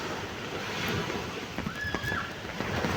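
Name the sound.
ocean waves on a beach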